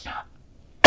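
A single short cough from a nearby person follows a brief bit of indistinct voice and a moment of silence.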